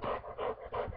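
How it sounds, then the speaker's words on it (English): A dog pants close by in quick, steady breaths, three rhythmic huffs filling the short moment with no other sound. "he's a really great guard dog"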